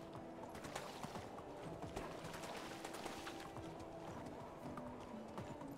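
Horse being ridden in the video game Medieval Dynasty, with quick rhythmic clip-clop hoofbeats running steadily at a moderate distance, with faint gear-like clatter mixed in.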